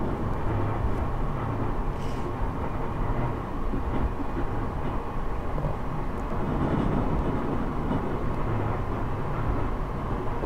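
A train runs along a test track in the Lotus train simulator game, a steady, loud rumble of wheels and motor rolling on with no break.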